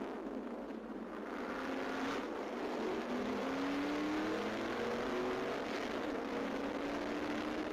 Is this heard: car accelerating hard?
yes